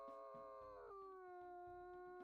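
A wolf howl from a video game rings out alone and clear, one long sustained tone that dips in pitch partway through and holds, sounding hoarse.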